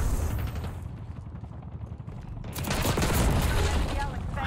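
ASVAL rifle gunfire in the video game Black Ops 6, rapid bursts of shots, with a quieter stretch in the middle before denser firing returns near the end.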